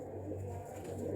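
Domestic pigeon, a bred fancy pigeon kept by a breeder, cooing softly and continuously in a low, rolling murmur, fairly faint with a steady background hum and no speech.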